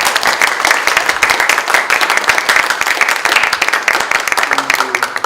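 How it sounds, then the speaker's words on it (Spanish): Audience applause at a lecture on the global political economy of consumption: dense, loud clapping from many hands fills the whole stretch with steady crackle, with faint voices and a brief tonal hum near the end. "quisiera reiterarle un gran aplauso a Erika por esta disponibilidad que tiene"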